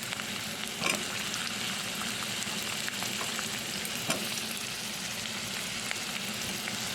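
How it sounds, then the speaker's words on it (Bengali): Potatoes fry in oil in a pan for a Bengali vegetable chorchori, giving a soft, even sizzle with a couple of brief stirring knocks and no talking. "আলুটা দিয়ে দিলাম একটু আলুটা ভেজে নিই"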